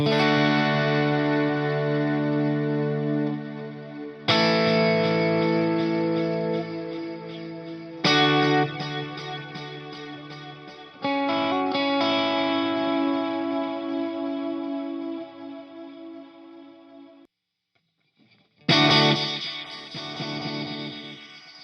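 Electric guitar chords ring out through a Valhalla Supermassive reverb and delay plugin, swirling echoes trailing each strum before a brief silence and a final burst.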